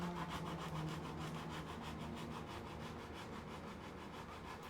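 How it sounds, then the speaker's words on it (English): Sandpaper is worked back and forth over a resin helmet in a steady, rhythmic scraping, faint and continuous with no talk. "I don't know what's wrong with the sandpaper I'm using,"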